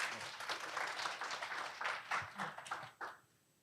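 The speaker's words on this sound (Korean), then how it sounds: "박수 한번 부탁드리겠습니다." Brief applause from an audience at a Korean security summit, moderate clapping that fades out after about three seconds.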